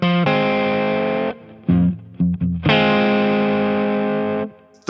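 Rick Turner Model 1 electric guitar with a thumb pick on, sounding driven and slightly distorted: a long sustained chord, a few short choppy stabs, then another ringing held chord, loud and close.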